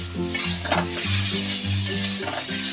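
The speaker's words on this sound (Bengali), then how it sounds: "এবার আমি পেঁয়াজটা দিয়ে দেবো পেঁয়াজটাও হালকা করে ভেজে নেব" Chopped onion frying lightly in hot oil alongside tomatoes for Bengali chicken potol dorma, giving a steady soft sizzle under continuous background music.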